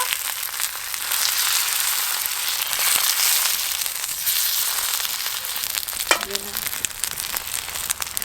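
Cabbage and egg fritters dipped in batter fry on a flat tawa, giving a loud, steady crackling sizzle throughout, with a brief knock of a utensil near the end.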